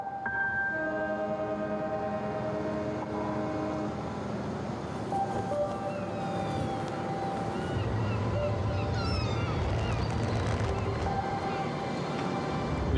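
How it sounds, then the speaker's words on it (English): Boat sailing out of a harbour in the Arctic, with a steady low engine and water rumble, surging noise and faint tonal hums in the background. "We're just sailing out of harbour now"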